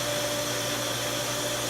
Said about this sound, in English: what you're hearing is a pump running